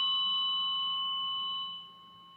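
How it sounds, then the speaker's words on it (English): A struck tuning fork in a biofield tuning session, a steady pure ringing tone with bright overtones that holds and then fades quickly at the end. "The fork is very vibraty. A lot of vibration there."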